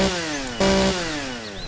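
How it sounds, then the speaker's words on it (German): A chainsaw running in the survival game Empyrion Galactic Survival, a steady loud buzzing drone with a brief rev-up partway through, heard alone without speech. "Was auch cool ist, was jetzt dazugekommen ist, ist eine Kettensäge."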